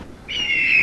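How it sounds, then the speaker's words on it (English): A single sharp seagull squawk in the game Bird Simulator, loud and close, rising abruptly and holding as a harsh sustained cry. "The seagulls are making me nervous."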